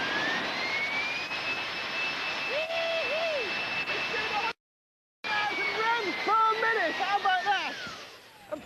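A small jet engine propelling a skateboard, held back from full throttle on a safety tether in a studio, gives a steady whining roar while higher tonal sweeps and voices cut in, broken by a short silent gap.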